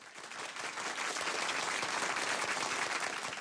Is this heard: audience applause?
yes